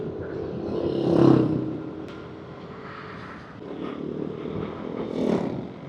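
A Yamaha Nmax Neo S scooter rides at night on a touring trip, its engine humming steadily with swells of acceleration and wind rush, heard from on board with no talk.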